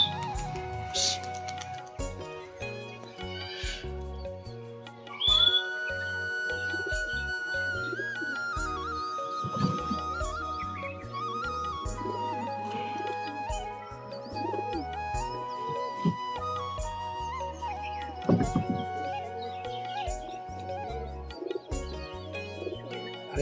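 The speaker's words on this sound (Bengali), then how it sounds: "আজকে অনেকদিন পর পায়রা উড়াবো" Domestic pigeons of Giribaz, Desi and Matras breeds are released for flight, with soft cooing and bird calls over a steady busy background of other sounds and a few sharp bumps, moderately loud throughout.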